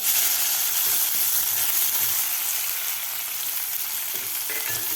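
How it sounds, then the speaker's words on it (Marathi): Chopped onion fries with cumin and mustard seeds in a pan, a close, bright, continuous sizzle with faint stirring scrapes, steady and unbroken with no talk. "कांदा सुद्धा आपल्याला साधारण दोन मिनिट आपल्याला परतून घ्यायचा आहे"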